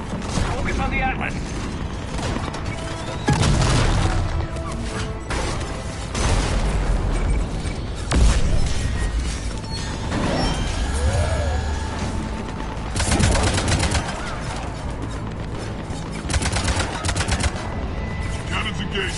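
Cannons and heavy weapons fire in the video game Mass Effect 3, loud bursts and rattling volleys coming in repeated waves, mixed with mechanical clanks and explosions under a game soundtrack.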